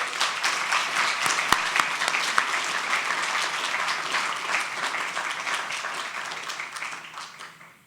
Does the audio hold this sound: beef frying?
no